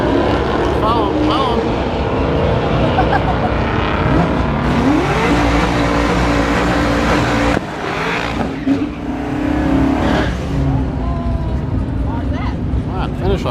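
Race cars at a drag strip roar and rev loudly, engines rising and falling with a bystander close by, while people talk over the continuous engine noise.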